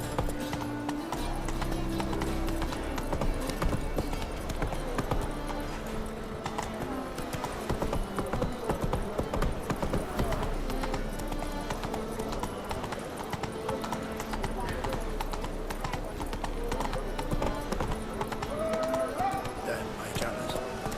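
A horse gallops in the video game The Witcher 3, giving a steady, rapid clip-clop of hooves that carries on for the whole stretch, with a voice speaking over it and a faint whinny.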